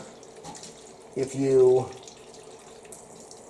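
Tap water runs briefly into a silicone ice cube tray, a short gushing fill of about half a second that swells and then stops, with someone speaking just before it.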